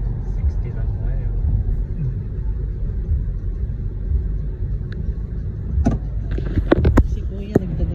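A car being driven on the road near Ayala Malls Vermosa in Imus, Cavite, giving a steady low rumble from inside the cabin while people talk over it, with a few sharp clicks near the end.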